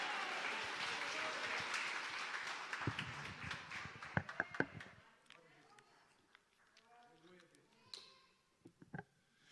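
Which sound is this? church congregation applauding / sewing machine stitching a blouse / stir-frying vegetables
church congregation applauding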